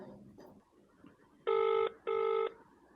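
A telephone ringing tone on an outgoing call: two loud, steady electronic bursts of about half a second each, separated by a short gap, over faint background noise.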